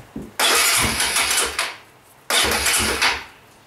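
A small pressure washer engine on a cool day is pulled over twice. Each attempt catches into a loud, rough burst of running that sputters and fades within about a second and a half, with no talking.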